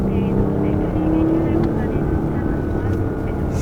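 Porsche Panamera 4 engine running in Sport Plus mode, a steady low drone with a rising tonal whine, heard from inside the cabin at constant loudness with no talk.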